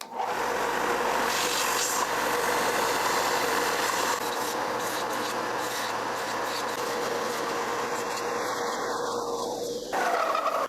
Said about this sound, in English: I'll get started on that on the belt sander out there.